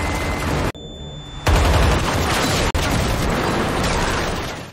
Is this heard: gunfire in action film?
yes